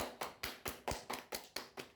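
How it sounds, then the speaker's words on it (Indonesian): A class applauds a student during an elementary school lesson, giving about nine evenly spaced, sharp claps in a steady, quick rhythm, close and moderately loud with no talking. "Tepuk tangan untuk Dena."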